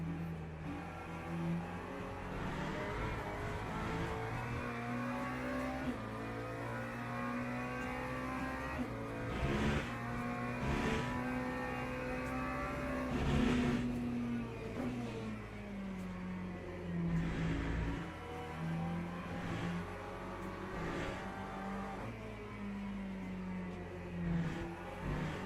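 McLaren race car engine and tires in a racing video game, a sustained close engine whine with pitch swells through acceleration and gear shifts, steady and without talk.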